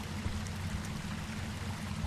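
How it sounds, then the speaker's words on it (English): A woodland waterfall in The Fabled Woods rushes steadily, a constant hissing, pouring wash of water with a low rumble beneath and no voices. "Nice water there. Waterfall."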